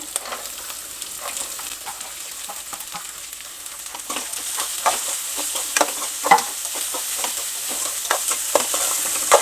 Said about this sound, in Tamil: அதில் இஞ்சி பச்சை மிளகா நல்லா வதங்கிடட்டும் ஆனியன் போட்டுக்கலாம்